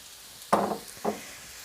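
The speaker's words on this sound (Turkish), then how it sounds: "Gördüğünüz gibi mantarlarımızı kavurmaya bıraktık" Mushrooms sautéing in a pan with a little olive oil give two short, fairly close hissing bursts about half a second apart, with quiet between them.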